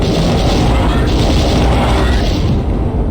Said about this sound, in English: Now might be a good time to show you how the plasma gun works.